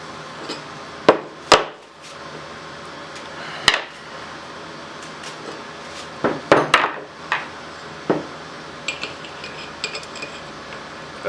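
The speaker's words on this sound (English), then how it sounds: "Might have to do some pounding" Sharp metallic knocks and clanks from parts of a Saginaw 3-speed transmission being worked on during a rebuild, scattered irregular impacts at close range with quieter tool clatter between them.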